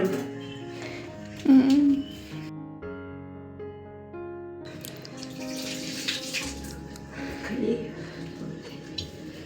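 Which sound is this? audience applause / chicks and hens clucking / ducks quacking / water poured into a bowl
water poured into a bowl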